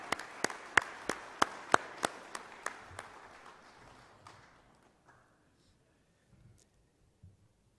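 A few audience members at a local awards ceremony clap in a brief, sparse burst of distinct hand claps that thins out and fades after a few seconds, leaving near silence with faint murmurs.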